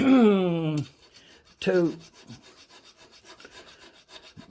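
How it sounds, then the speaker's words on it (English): Metal file rasping on the cylinder of an International type M engine, a steady series of close, rhythmic scraping strokes following two brief louder tonal sounds at the start. "I'm just going to file that away, probably a half inch"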